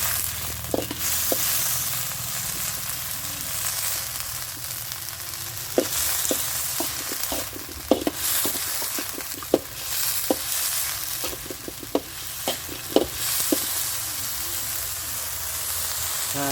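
Cicadas are stir-roasted in a pan, giving a steady sizzle with frequent sharp clicks and scrapes of the utensil against the pan, close and continuous.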